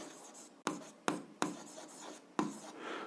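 A pen writes on paper in an algebra exercise, with quiet scratching strokes broken by several sharp taps as the pen meets the page, close and soft, with no voices.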